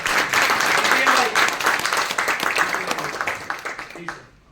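An audience at a health product testimonial gathering claps in a dense, sustained burst that holds steady and then fades out at the end, with no talk over it.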